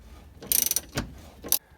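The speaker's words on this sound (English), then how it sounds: "break the bolts loose." A breaker bar loosens rusty tow-hitch bolts on a Honda Pilot, making a quick burst of ratcheting clicks followed by two short, gritty metallic cracks, close and fairly loud with no talking.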